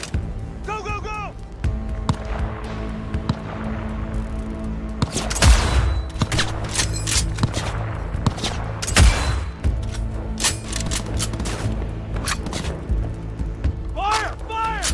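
Gunfire during Cyberpunk 2077 combat, a steady stream of rapid shots and heavy thuds beneath a loud, continuous game soundtrack, with voices calling out at moments.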